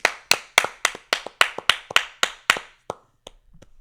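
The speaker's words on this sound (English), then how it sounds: "Let's go ahead and clap it up really quick for another Hawkeye win." A small group of hands claps in about ten sharp, evenly spaced bursts, close and loud, then slows to a few scattered claps before fading out.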